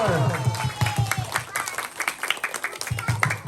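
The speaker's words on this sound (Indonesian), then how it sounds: "kita tepuk tangan dulu dong biar meriah" Audience clapping at a school quiz competition, rhythmic and fairly close, with a voice talking over the start of it.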